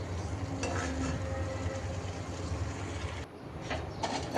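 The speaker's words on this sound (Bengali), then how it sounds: "পেঁয়াজটা একটু নেড়েচেড়ে ভেজে নিয়ে তো মশলা দিয়ে দিয়েছি" Chopped onions and spices fry in oil in a wok, a continuous close sizzle with stirring scrapes, then a short dip in the sound before it resumes.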